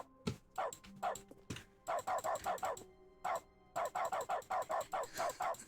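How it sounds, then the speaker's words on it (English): Cartoonish dog barks from the video game The Stanley Parable ring out in quick rhythmic bursts, a few scattered yips followed by rapid runs of repeated barks, clear and prominent. "The doggy bark. Bark, bark, bark."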